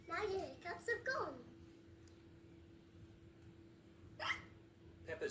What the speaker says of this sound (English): Peppa's cure for hiccups doesn't seem to have worked.